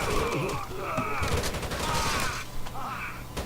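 Sustained automatic gunfire from a heavy machine gun in the video game Rainbow Six Vegas 2, dense bursts with game effects layered over it, played fairly loud.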